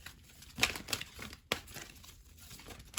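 Tarot cards being shuffled and pulled by hand, giving a couple of sharp papery snaps and soft crinkling slides, close and fairly quiet.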